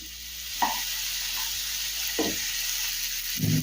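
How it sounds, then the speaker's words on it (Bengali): Mushrooms fry with lightly browned garlic in a pan over a medium-high gas flame, giving a loud, steady sizzle broken by several close spatula scrapes and stirs. "গ্যাসের ফ্লেম মিডিয়াম টু হাই রেখে মাশরুমটা তিন থেকে চার মিনিট সময় একটু ভেজে নেব"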